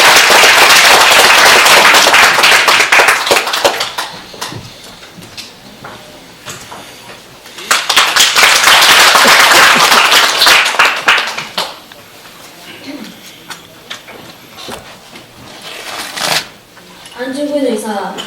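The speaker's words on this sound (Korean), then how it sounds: "나오실 때 박수 부탁드립니다" Audience applause at a memorial ceremony for An Jung-geun: dense, loud bursts of clapping in several waves that rise and fade, with brief quieter gaps and a voice beginning near the end.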